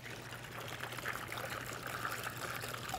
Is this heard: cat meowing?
no